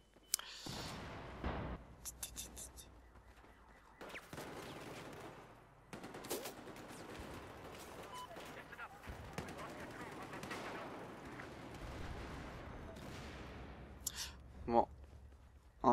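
Battlefield 4 gunfire on the Siege of Shanghai map, with scattered single shots and automatic bursts, some near and sharp and others distant, mixed with game explosions and someone commentating at intervals.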